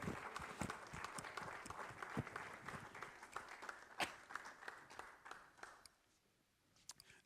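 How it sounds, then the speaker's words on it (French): Audience at a scientific conference prize ceremony applauds the young researcher award winner Alberto Muñoz Arancón, a fairly soft patter of many hands that fades out into near quiet, with a few lone claps and movement at the end. "je vous propose de l'applaudir et de l'accueillir sur scène pour la remise du prix"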